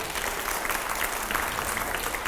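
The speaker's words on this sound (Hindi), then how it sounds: "जोरदार तालियां हो।" Studio audience applauding during a TV news interview, a steady wash of dense clapping that fills the room evenly, loud and continuous without speech.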